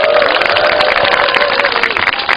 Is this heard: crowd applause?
yes